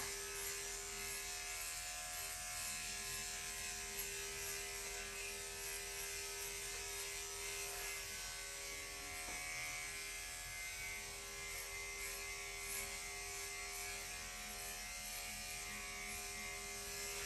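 Electric pet grooming clippers buzz continuously with a steady high-pitched motor whine and tonal hum, close and even throughout, with slight shifts in texture as they move and no voices.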